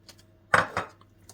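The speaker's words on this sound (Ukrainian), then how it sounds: "Перемішуємо, поки повністю масло розтане." Custard cream for a Napoleon cake being stirred in a pot with 40 grams of melting butter, making two short, close clinking scrapes of a utensil against the pot over quiet background.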